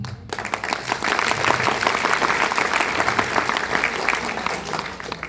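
A crowd at a network marketing gathering claps steadily and densely for several seconds, a sustained, even wash of applause that continues without a break.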